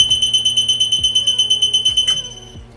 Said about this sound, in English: Always check for the alarm and make sure that the alarm is working